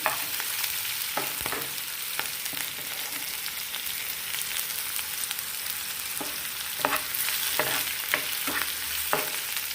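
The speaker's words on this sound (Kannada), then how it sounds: "ಇದೆಲ್ಲ ಚೆನ್ನಾಗಿ ಫ್ರೈ ಮಾಡ್ಕೊಳ್ಳೋಣ ಒಂದು ಎರಡು ಮೂರು ನಿಮಿಷ ಫ್ರೈ ಮಾಡಬೇಕು ಈರುಳ್ಳಿ ಆಗಬೇಕು" Onions and curry leaves fry in hot oil for a radish palya, a steady close sizzle running throughout, broken by a handful of sharp scraping clicks from stirring.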